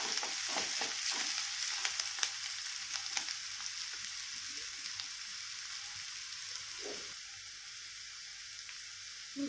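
Green chillies and onion sautéing in a pan, a faint steady sizzle with scattered stirring scrapes and clicks that thin out toward the end.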